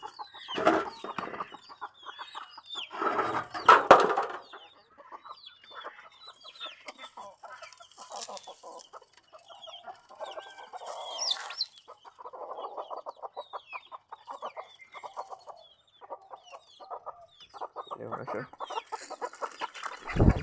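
Native backyard chickens clucking in short runs of soft, rapid clucks, fairly close and quiet, with a few louder squawks and rustles.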